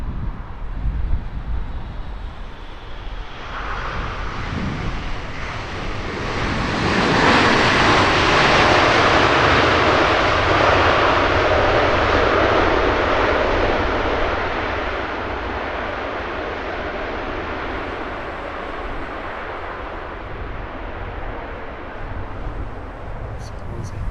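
An airplane flies over Heathrow Airport in a left-hand bank. Its engine roar swells to a peak midway, then fades slowly while voices talk over it.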